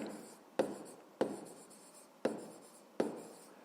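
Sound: writing by hand

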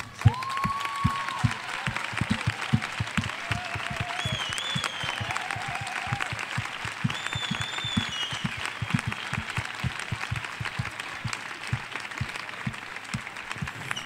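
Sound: audience applause at a feminist event

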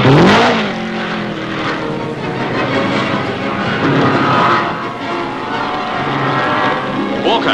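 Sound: racing cars at 1951 British Grand Prix, Silverstone

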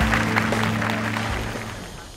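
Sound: audience applause

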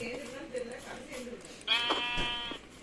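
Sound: sheep bleating in a video game

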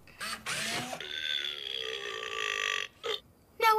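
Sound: burp sound from a Robosapien toy robot

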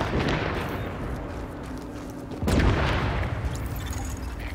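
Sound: napalm tank explosion in The Division video game

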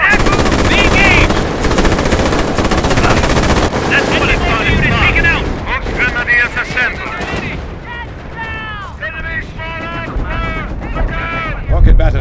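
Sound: rocket batteries firing in Company of Heroes video game

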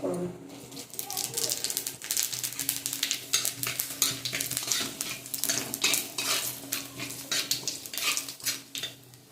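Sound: whole spice tempering (panch phoron) frying in fish oil

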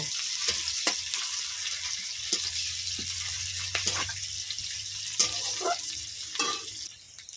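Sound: onion frying in oil in a pan

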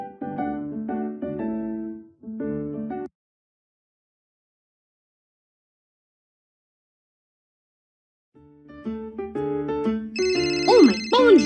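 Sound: phone ringtone ringing in cartoon

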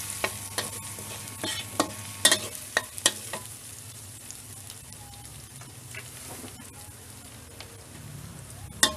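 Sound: stir-frying in a pan

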